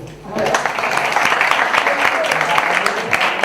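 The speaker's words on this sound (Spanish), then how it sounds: "un aplauso para vosotros por venir." An audience claps steadily for a few seconds, a dense wash of applause that starts suddenly and holds at an even level.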